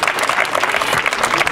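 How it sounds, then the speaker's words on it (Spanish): Audience applause at a Día de Reyes event in Loma Bonita, a dense, steady wash of many hands clapping continuously at moderate loudness throughout. "fuerte el aplauso"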